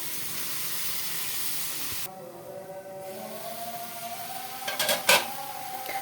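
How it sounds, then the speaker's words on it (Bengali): Red amaranth leaves hit a pan of fried potato and prawns, a broad hissing sizzle that drops abruptly then settles into a softer crackle, with a few clinks of utensils near the end. "আলু আর চিংড়ি মাছটা ভাজা হয়ে গেছে এখন এর মধ্যে আমি এই লাল শাকগুলো দিয়ে দেব"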